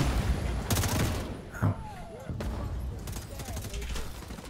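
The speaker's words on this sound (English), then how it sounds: "They're still shooting." Gunfire in The Division 2 during a bank headquarters mission: sharp bursts of rapid shots, some distant and some closer, separated by short pauses, fairly quiet overall, with some faint chatter in the background.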